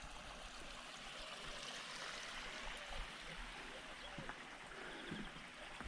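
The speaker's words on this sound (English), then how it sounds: "the water's been draining out about an hour, so the waterfalls are a little bit more noisy." Small waterfalls in a garden pool that is draining, leaving mud behind: a faint, steady rush and trickle of running water with a few soft splashes, heard from a little distance.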